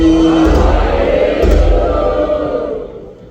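A Sikh congregation roars a jaikara together at a gurdwara, a loud massed shout from many voices that swells and then trails away over a few seconds.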